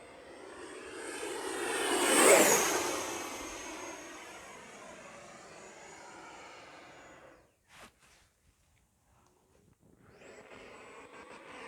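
A radio-controlled F-18 Blue Angels 80mm ducted-fan jet screams past at full throttle, swelling loud as it passes close and then fading off, dropping away to near silence before its whine returns in the distance.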